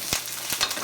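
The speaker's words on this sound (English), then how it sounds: "there's a lot of heat in here, and so you get a pretty good sear up" A single steak searing in a hot pan, a dense continuous sizzle with a couple of brief sharper crackles, close and loud with no voices.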